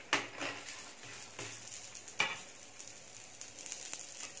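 Madurai bun parotta frying in oil on a pan, a soft continuous sizzle broken by a few sharp clinks and scrapes of a utensil against the pan, with no talking.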